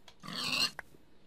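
A pig in the video game Minecraft gives one short grunt, faint and close, followed by a small click and near silence.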